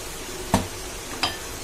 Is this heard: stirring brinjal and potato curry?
yes